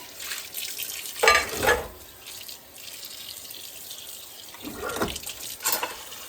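Running tap water with intermittent clatters and splashes as dishes are rinsed and handled by hand, steady and close.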